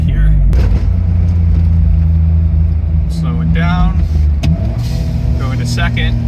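An Autozam AZ-1 kei car fitted with an aftermarket ECU drives down the road, its small engine giving a steady low drone inside the cabin while someone talks over it.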